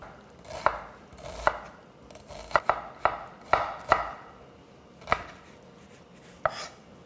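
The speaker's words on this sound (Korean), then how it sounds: "이렇게 양파를 다 써는 동안" Knife chopping onion on a cutting board, irregular sharp thuds spaced out over several seconds, close and clear with no talking.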